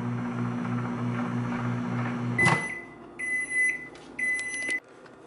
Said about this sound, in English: My microwave's kind of weak, so I put it in for 40 seconds.